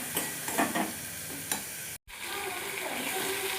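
Spice paste being stirred and fried in oil for a cauliflower curry, a steady close sizzle with scraping stirs, broken by a brief silent gap midway before the frying resumes.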